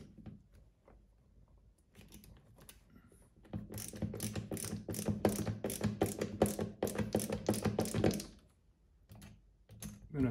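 Mounting screws are started and driven into a carved wooden Drake can gunner boat, producing a faint scattered clicking and then a dense run of rapid ratcheting clicks, close and alone.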